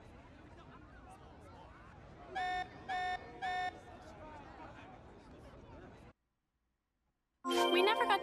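In the video game Xenoblade Chronicles 3, an alarm sounds three short repeated electronic blares over background chatter and ambient noise, followed by silence and then a loud burst of harsh sound.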